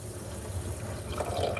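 Kitchen sink tap water running steadily for rinsing or cooking rice, a continuous close splashing flow with no voices.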